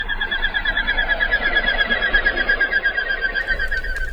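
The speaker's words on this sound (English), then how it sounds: "It's Bucephala clingula, the common goldeneye, today's Talkin' Birds featured feathered friend." Common goldeneye calling: a steady, unbroken run of rapid, buzzy pulsed notes, close and clear for about four seconds, with no voices.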